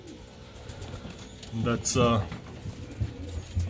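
Racing pigeons coo nearby in a loft after returning from a toss, with soft repeated coos rising over someone talking.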